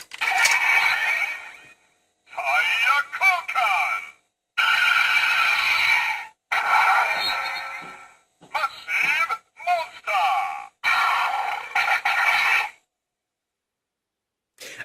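A Kamen Rider Drive toy driver belt with a Gashapon Massive Monster shift car inserted plays its henshin transformation sequence as a series of loud electronic bursts separated by short pauses, then falls silent.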